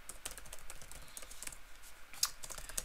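Quiet, rapid keystrokes on a computer keyboard as code is typed, an irregular stream of soft clicks with a few sharper taps, alone without talk.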